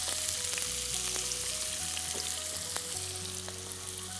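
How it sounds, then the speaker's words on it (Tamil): Spices sauté in a pan for mutton varuthakari, a soft, continuous sizzle held at an even level while steady musical tones sound alongside. "நல்லா வதக்கிடுங்க"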